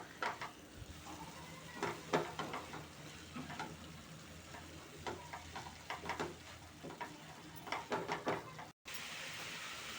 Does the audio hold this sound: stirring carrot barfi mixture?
yes